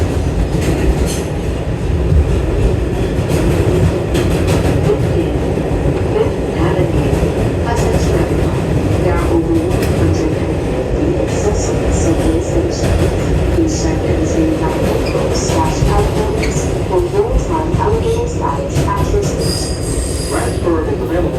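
A New York subway train carries a full load toward Penn Station, a loud close rumble of wheels on rails with repeated metallic squeals and clattering, continuous throughout.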